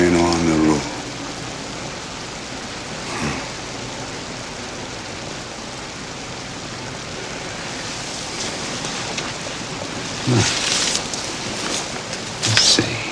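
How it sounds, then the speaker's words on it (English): Steady rain drumming on a roof, a dense, even hiss heard from indoors, with a voice at the very start and a few louder knocks later. "Rain on the roof."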